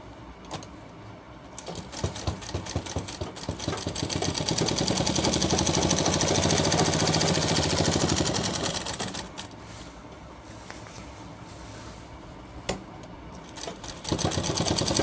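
A sewing machine stitching a shirt shoulder seam along the edge, with a quieter rattling start building to a sustained, louder run of rapid stitching, then easing back to softer intermittent clatter.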